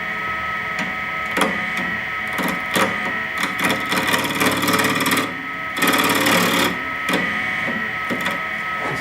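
A WEN 3420 8-by-12-inch variable speed benchtop wood lathe runs at around 1,000 rpm, a steady close motor whine broken by irregular rattling and clattering bursts, with no talking.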